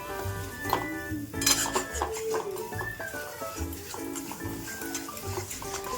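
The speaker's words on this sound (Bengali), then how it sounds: "এবার আমরা গুঁড়ো মশলাগুলোকে একটু নাড়াচাড়া করে নিচ্ছি।" A utensil scrapes and clinks against a pan as ground spices, including chili powder, turmeric and salt, are stirred for Bengali katla kalia, with repeated soft metallic scraping and occasional taps over low kitchen noise.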